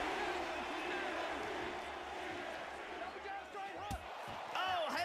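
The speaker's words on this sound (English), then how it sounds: "The crowd rallying behind George St. Pierre." Crowd noise from the UFC Undisputed video game rises in a dense, steady roar of arena cheering behind a George St. Pierre fight, with a commentator talking over it and a louder surge near the end.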